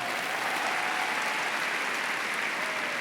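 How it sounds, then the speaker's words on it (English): Audience at a university convocation applauding a guest speaker, a dense, even wash of clapping sustained at full level for the whole stretch. "Let's give Art a round of applause on that one."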